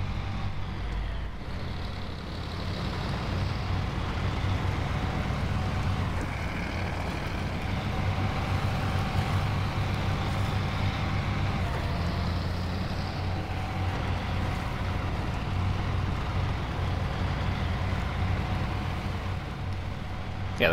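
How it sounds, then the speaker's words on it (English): Kolob heavy truck engine in the video game SnowRunner, a deep, meaty, steady drone that runs continuously at close range for the whole stretch, with no talking over it. "the Kolob sounds pretty good on this game, pretty meaty. It's quite a nice engine sound to it."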